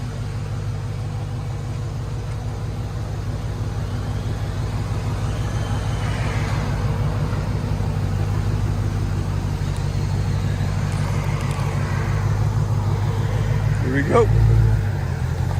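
A 2016 Dodge Charger Hellcat SRT with a supercharged 6.2L Hemi and Flowmaster dual exhaust idles in a deep, steady rumble, then gives a short sharp rev near the end, with people talking over it.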